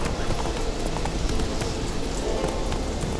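A horse gallops in The Witcher 3: Wild Hunt, with fast, continuous hoofbeats at steady loudness and no speech over them.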